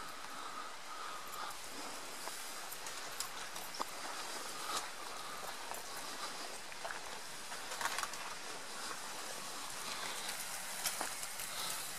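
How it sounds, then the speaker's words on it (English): Light rain falls steadily at a wild campsite in Scotland, a soft continuous patter with faint scattered taps and rustles close by, no voices. "It's light rain at the moment."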